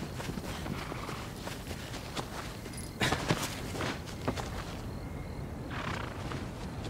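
Horse hooves gallop in the video game Shadow of the Colossus, a steady rhythmic clatter of hoofbeats over a busy game soundscape, with a few louder thuds partway through.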